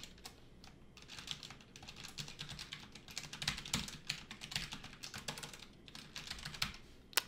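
Rapid, steady typing on a Logitech G915 TKL low-profile keyboard with red linear switches, close and clear, with dense clacks and a few louder strokes and no voices.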